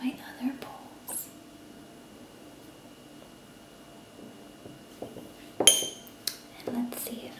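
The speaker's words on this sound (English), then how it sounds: "Let me grab one of my other bowls." Ceramic bowls are handled and clink gently in a quiet setting, a few soft knocks and one brighter clink near the end, close and intimate with faint whispering around them.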